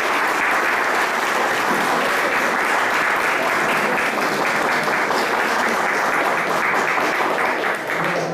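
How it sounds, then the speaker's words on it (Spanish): An audience applauds speaker Franz at a university gathering in Costa Rica on religion and spirituality, with dense, sustained clapping that holds loud and even from start to finish. "Un aplauso a Franz."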